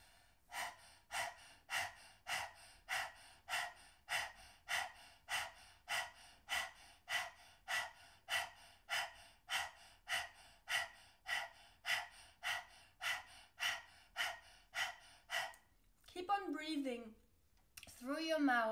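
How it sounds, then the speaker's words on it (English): Rapid, even bursts of breath of fire, pushed out through the mouth with the tongue out, about two forceful puffs per second, close and steady for about fifteen seconds. A brief gasping, voiced exhale follows. "then we'll start breath of fire"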